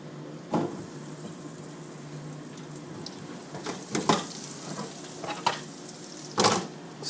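Breaded mushrooms hiss and sizzle steadily in hot deep-fryer oil, with a few sharper splashes and clinks as pieces go in, fairly quiet and close with no talking.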